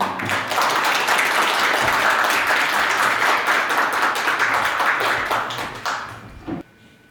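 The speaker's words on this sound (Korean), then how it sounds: "박수로" Steady, full applause from a symposium audience welcoming a professor to the stage, sustained for several seconds before tapering off abruptly into quiet room noise.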